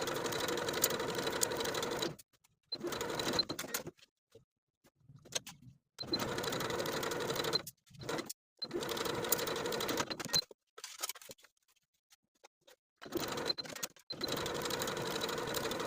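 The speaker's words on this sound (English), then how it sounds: "Now we're going to sew that facing in place, edge stitching close to that inner fold" Bursts of a sewing machine edge stitching a facing in place on a boho top, running in steady whirring runs of a few seconds separated by short pauses, close and clear with no talk.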